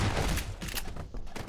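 Gunfire in the video game Half-Life 2: a short, dense burst of rapid shots blending into a continuous rumbling crackle, moderately loud, no talking.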